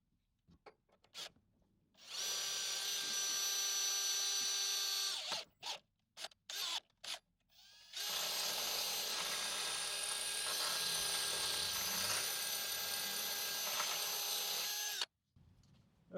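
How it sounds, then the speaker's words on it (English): A power drill with a 7/32 bit bores into the plastic fender liner of a 2022 Toyota Tundra, two loud sustained high whining bursts separated by short stop-start triggers, close up and without talk. "Okay, so I used a 7/32 drill bit."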